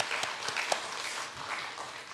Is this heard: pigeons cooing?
no